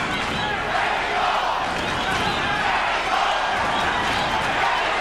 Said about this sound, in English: Crowd chanting Mexico, Mexico, trying to lift Chavez up.